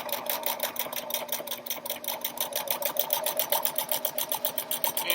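Sewing machine top stitching fabric along the presser foot edge, a fast, steady, even needle rhythm running close and clear throughout with no talking.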